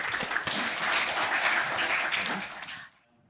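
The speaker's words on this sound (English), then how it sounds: "Give him a round of applause." An audience at a San Francisco talk applauds as a new speaker is handed the stage, a dense, loud wash of clapping that holds steady and then cuts off abruptly near the end.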